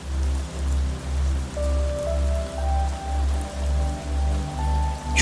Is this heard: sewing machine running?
no